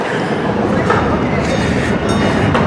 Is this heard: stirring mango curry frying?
no